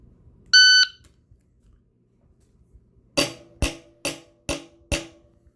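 A shot timer gives a single loud electronic start beep on a shooting range, followed after a pause by five sharp gunshots in a quick, fairly even sequence.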